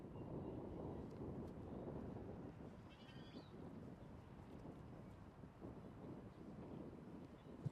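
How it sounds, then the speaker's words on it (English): Wind gusts across an open disc golf course, a steady broadband rush with low rumble that swells and eases throughout, with a brief faint whistle-like tone partway through. "you're also hearing the wind pick up again"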